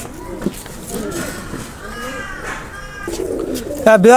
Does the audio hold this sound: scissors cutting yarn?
no